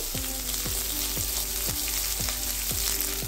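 Onion and garlic fry loudly in a pan with whole garam masala, a constant dense sizzle punctuated by regular rhythmic scrapes of a spatula, close and unbroken with no talking.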